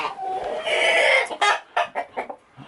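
A rooster clucking up close: a drawn-out agitated squawk, then a quick series of short, sharp clucks.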